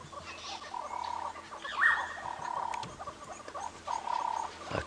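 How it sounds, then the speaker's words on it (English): Birds call repeatedly and excitedly on an early-morning safari drive, a mix of clucking squawks and higher cries in bursts, fairly close with a quiet background. "can you hear the birds going crazy?"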